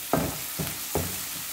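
Ginger garlic paste sautéing in a pan for a pepper chicken roast, with three short bursts of stirring and sizzle over a low steady fry, fairly close and with no talk.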